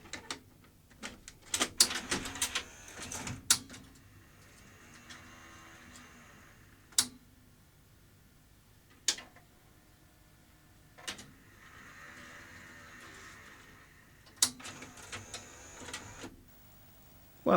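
A tape loads into a Sony UVW-1200P Betacam SP player, with scattered sharp mechanical clicks and clunks, whirring motor stretches between them, and quiet gaps, all heard close.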